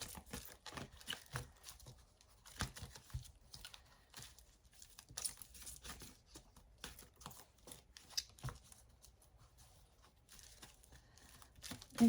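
Oracle cards are shuffled gently, with faint scattered flicks, rustles and crinkly slides coming in uneven bursts at low volume, no one speaking.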